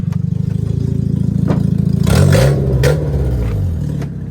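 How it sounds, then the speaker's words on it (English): Rally-style racing car with its exhaust hanging off, engine idling with a lumpy throb outdoors, then revved up sharply twice before settling back, loud and close with no talk. "I can see that there's a racing car pulled up outside."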